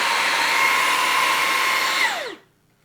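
A Levoit cordless vacuum cleaner runs with a loud, steady high-pitched motor whine, then switches off and winds down quickly into silence.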